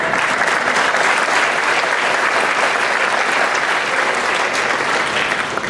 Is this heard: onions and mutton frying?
no